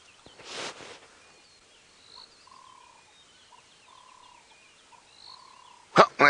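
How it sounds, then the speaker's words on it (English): Several birds call and whistle in a dawn chorus at a distance in a quiet outdoor setting on a sunrise safari drive, with a gobbling burst and a couple of close thumps. "Just the dawn chorus of birds"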